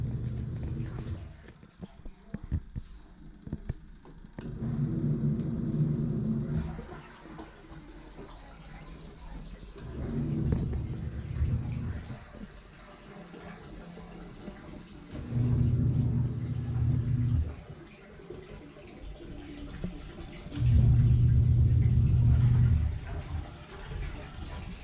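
A washing machine working through its cycle, with repeated low rumbling, sloshing surges lasting a few seconds each, separated by quieter pauses and a background hiss.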